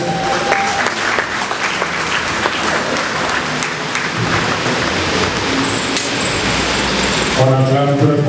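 A crowd at a funeral ceremony claps loudly and continuously, a dense, rain-like wall of applause that keeps on steadily with a voice speaking faintly underneath.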